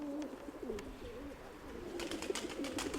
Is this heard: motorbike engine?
no